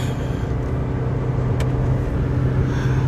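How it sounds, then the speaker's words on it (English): A 2.2-litre D4D turbo diesel Toyota Avensis cruising on a highway during DPF regeneration, heard from inside as a steady, loud low engine drone and road rumble with no break. "So we are doing the Dpf regeneration while we are driving."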